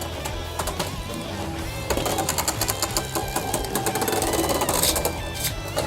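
A Hasbro Beyblade Burst Turbo Spiral Treptune top spins in a plastic stadium after launch, giving a steady close whirring hum broken by rapid rattling clicks as it rides and knocks against the walls.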